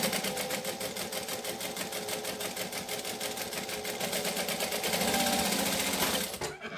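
A sewing machine runs one continuous seam inside the seam allowance, its fast, even needle rhythm close and steady for about six seconds, picking up slightly near the end before stopping abruptly.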